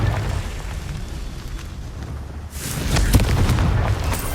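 A Confringo fire spell explodes in Hogwarts Legacy, a loud burst at about two and a half seconds that swells into a roaring, crackling blast with a sharp peak after it, following quieter rumbling ambience.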